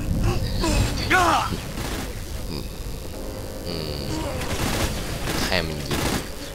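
Gunfire in Saints Row: Gat Out of Hell, bursts of shots and mechanical clatter in a busy game mix, with someone talking over it throughout.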